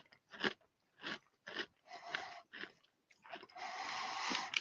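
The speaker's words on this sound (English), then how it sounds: "It's that shattering crunch." Close, crisp crunching and chewing of Glico Cheeza smoked double cheese and black pepper snack crackers from Japan, a series of sharp shattering bites followed by rapid mouth crunches, near and quiet with no talking.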